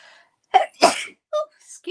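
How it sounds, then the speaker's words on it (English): A person sneezes indoors while working with soft pastels, a short sharp burst followed by a quieter voiced sound, close and fairly loud, with brief throat noises after it. "I think I'm going to sneeze."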